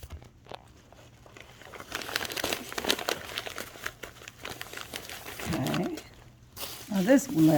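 Paper and a plastic baggie crumpled and crinkled by hand while making a craft figure, a close, irregular rustling that comes and goes over several seconds, mixed with bits of speech and other background sound.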